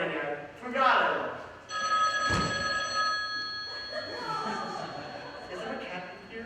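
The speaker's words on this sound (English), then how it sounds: "That's the phone, Ken." A telephone bell rings continuously in the room for several seconds, heard beneath people talking.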